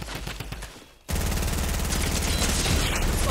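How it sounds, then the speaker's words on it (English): Heavy weapon fire in a chaotic multiplayer video game battle: a sudden loud burst of rapid explosive shots and blasts that keeps going, dense and close, with no voices over it. "I was trying to rocket launch him."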